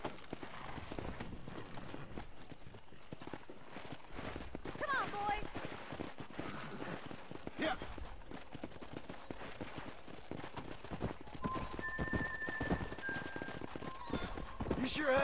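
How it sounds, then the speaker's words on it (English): Horse hooves clip-clopping in the Red Dead Redemption video game while wrangling horses, a steady rhythmic patter under game music, with an occasional whinny and brief tones layered in. "Let's see if we can't wrangle some horses."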